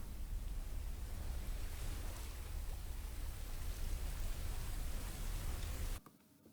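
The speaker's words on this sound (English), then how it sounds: "Irish Coast is in the description, as you could hear different waves and the wind and the waves." Steady, loud broadband wash of ocean waves and wind from an Irish Coast coastal soundscape, a continuous roar with no speech that cuts off abruptly near the end.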